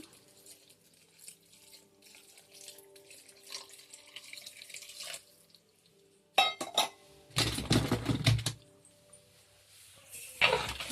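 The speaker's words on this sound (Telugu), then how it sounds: "కొద్దిగా అయితే వాటర్ వేసేద్దాము" Water is poured into a pan of meat curry with ginger-garlic paste, arriving in two short splashy bursts after quiet kitchen clinks, followed by a brief final splash.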